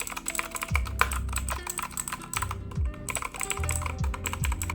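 Typing on a Redragon Fizz mechanical keyboard fitted with blue switches: rapid, crisp, clicky keystrokes in an uneven rhythm, close and loud, with a few heavier thuds as keys bottom out.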